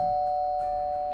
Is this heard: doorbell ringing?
yes